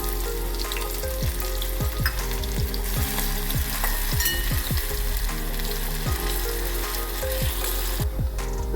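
Chopped onion frying with cumin in a pan for spinach and chickpea masala, giving a loud, steady sizzle broken by repeated scraping stirs throughout.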